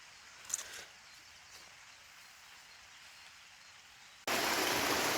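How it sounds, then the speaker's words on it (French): Steady rain drums on a greenhouse roof in a continuous hiss, with a brief louder patter early on and a sudden jump to a much louder, denser downpour near the end. "Je ne sais pas si vous m'entendez bien à cause de la pluie, parce que ça n'arrête pas."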